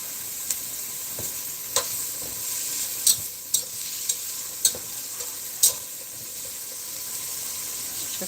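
Food cooking on low heat in a pan sizzles softly and steadily, broken by several sharp utensil clinks and scrapes against the pan, with no voices.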